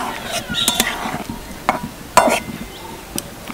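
Spatula scrapes and clinks in a pan as fried eggs are stirred into egg chilli gravy over low to medium heat, with a soft sizzle under a few sharp utensil knocks.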